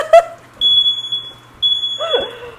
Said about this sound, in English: I hope that this alarm sound is not like copyrighted and then I have to get it cleared